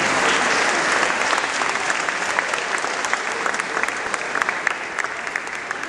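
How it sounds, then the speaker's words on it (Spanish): A university audience breaks into loud, sustained applause, dense clapping from a crowd that carries on evenly for several seconds. "Les pido un aplauso, por favor."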